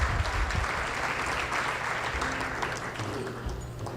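Audience members at a school district State of the District event give a round of applause, a dense steady wash of clapping at moderate volume with faint voices and low room hum beneath it.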